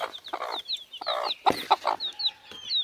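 Young chicks of local country chickens cluck and peep in short bursts, a lively scatter of nearby calls with a few high chirps woven between them, quick and uneven.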